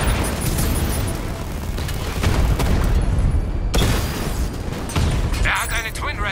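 Explosions and gunfire from a Batman video game as a Twin Rattler is shot down, a dense, continuous roar of booms and bursts filling the whole stretch at steady high loudness, with no clear break.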